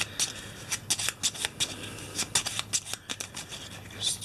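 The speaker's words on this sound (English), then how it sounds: "Just shuffle them, cut them." A deck of Eldritch Horror board game cards is shuffled by hand in a run of crisp, rapid riffling bursts, close and fairly loud, with no talking.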